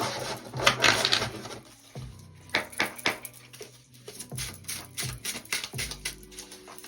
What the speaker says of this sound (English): I've got to give it two shuffles